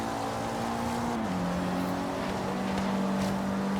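A TVR race car's engine in the video game Forza Horizon 3 drones steadily at high revs, its pitch dropping briefly as it shifts gear, with no talking.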